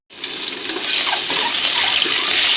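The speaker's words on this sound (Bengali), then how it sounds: "700 গ্রাম পানি নিলাম।" Water for egg, pea and saffron pulao runs steadily into a pan in a home kitchen, a continuous close splashing stream that starts abruptly and holds at an even level throughout, with no talking.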